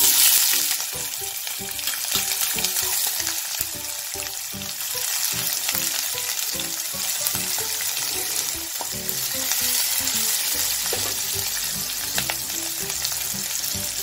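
Chopped onion fries in hot oil for rava upma, a loud continuous sizzle with repeated stirring strokes across the pan.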